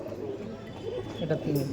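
Giribaj pigeons of an old Kolkata breed line coo softly in low throaty bursts, close by, amid light background noise.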